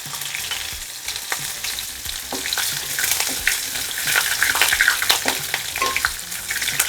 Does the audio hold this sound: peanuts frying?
yes